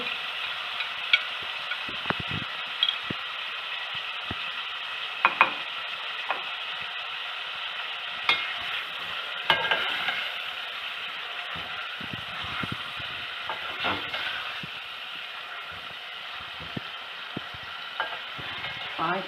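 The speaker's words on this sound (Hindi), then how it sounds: "पाँच मिनट तक हम अदरक लहसुन के साथ कीमे को भूनेंगे।" Minced meat frying in a pan with ginger garlic paste, a steady soft sizzle under scattered scraping and stirring clicks from a spoon, fairly quiet and close, with no voices.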